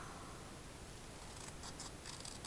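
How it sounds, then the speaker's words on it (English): Scissors snip into an old book page with faint, quiet crisp cuts and light paper rustle, a few small clicks clustered toward the end. "So again, you just make a little snip in the center."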